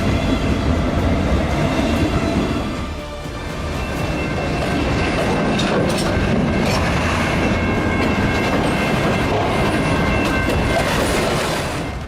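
A long freight train hauling aircraft fuselages from Kansas to Washington rolls past close by, a steady loud rumble with rhythmic clickety-clack of wheels over rail joints throughout.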